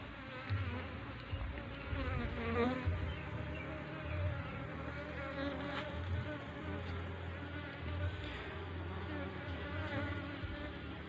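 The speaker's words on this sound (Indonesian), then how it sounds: "Untuk kondisi lebah juga bagus banget, sehat dan gemuk-gemuk." Honey bees swarm in a steady buzzing drone around a wooden hive box, the dense hum close and continuous with no voices over it.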